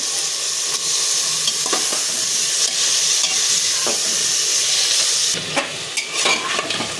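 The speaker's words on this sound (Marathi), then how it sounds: "वाळ आणि बटाटे टाकून आपण ते परतून घ्यायचे आहे" Val beans and potatoes with spices are sautéed in a pan for khichdi, giving a dense, close sizzle with stirring scrapes that continues throughout and changes tone slightly near the end.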